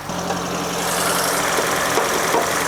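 A Toyota Corolla AE101 with a 1.6-litre naturally aspirated four-cylinder 4A-GE 20-valve Black Top engine idles steadily with a low, even rumble and a faint mechanical knock, continuous and close, with no talking.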